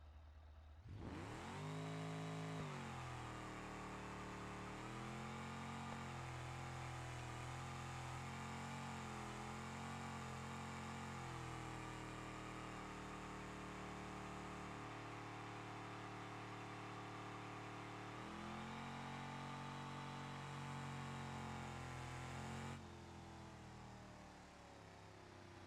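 A V8-swapped Gavril Bluebuck in the BeamNG.Drive video game revs hard for a burnout, a loud sustained engine roar with rising and falling pitch and a brief dip before climbing again, then cutting off.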